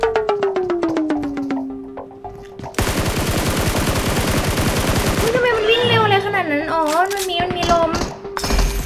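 Gunfire in the video game PUBG Mobile in Ice Wall mode: a rapid automatic burst of shots rattles loudly at close range, followed by further game sounds under excited voices.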